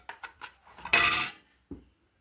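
A metal spoon taps a cooking pot three times in quick succession while spices are added, then a brief scraping rasp and a final single clink, close and clear with no talk.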